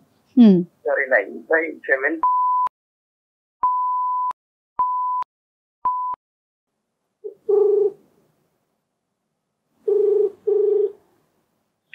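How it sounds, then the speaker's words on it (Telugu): A telephone call is placed: after a brief voice, a series of short, evenly pitched electronic beeps sounds in a clean, quiet setting, followed by two bursts of buzzy ringing tones with gaps between. "ఒకసారి ఫోన్ ఇస్తారా, నేను కాల్ చేస్తాను"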